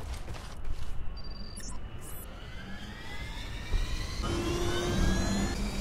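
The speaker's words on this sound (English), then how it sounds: "There is some planes and some choppers" Jet airplane engine roaring steadily in the Frontlines: Fuel of War game at an airport, with a rising whine building in the second half; loud and continuous, no talk over it.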